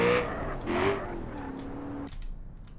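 A muscle car drifting in BeamNG Drive gives a short, wavering tire squeal over a steady engine rumble. The squeal cuts off after about two seconds and only the engine remains.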